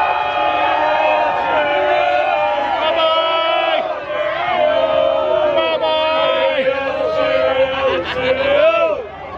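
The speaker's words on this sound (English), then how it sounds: "that's why they're cheering" A football crowd at a Thai Premier League match between Pattaya and Ratchaburi cheers and chants together in the stadium, a loud, sustained mass of voices with rising and falling shouts throughout.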